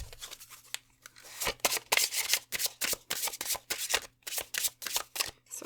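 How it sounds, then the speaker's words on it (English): Tarot cards shuffled and drawn, a steady run of close, papery riffles and slides in rhythmic bursts, with no talking. "So let's draw more cards to glean some more details, pile 3, to see what is going on."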